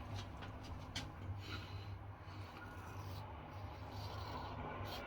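A Stirling straight razor scraping across lathered skin in a close, steady, soft rasp that runs without a break under a low background hum.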